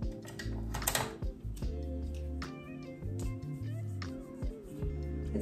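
Strips of tape are pulled and pressed down, one after another, to hold a monogram onto a sublimation disc, giving close crackling tears and squeaky stretches in irregular bursts.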